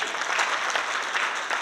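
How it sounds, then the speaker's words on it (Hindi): Brief audience applause for a speaker at a motivational talk in Delhi, a burst of dense clapping from a room full of people that holds steady for under two seconds. "ताली हो जाओ सर के लिए"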